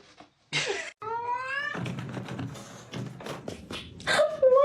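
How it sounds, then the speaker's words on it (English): A cat meows several times up close, with drawn-out, rising and falling cries and a sharper yowl near the end, alongside light tapping and thumps. "Meow if you're pretty."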